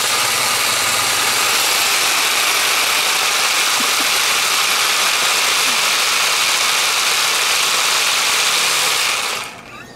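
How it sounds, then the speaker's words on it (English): A reciprocating saw (Sawzall) runs continuously with a dense, loud buzzing drone to shake First Strike rounds packed in a container, holding steady for about nine seconds before cutting off at the end. "Attach it to the sawzall."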